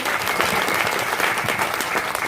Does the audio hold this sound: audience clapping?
yes